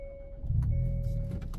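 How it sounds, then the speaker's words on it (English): A car passes very close by on a road. Its engine rumble swells quickly and holds loud for about a second over a faint steady background hum. "car came awful close to my car."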